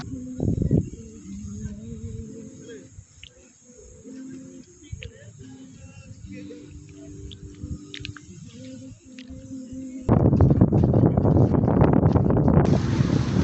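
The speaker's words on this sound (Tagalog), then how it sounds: "Malamig malakas ang hangin." Cold, strong wind at a lakeside campsite; low murmuring voices and quieter gusts give way to a sudden loud roaring blast of wind buffeting the microphone near the end.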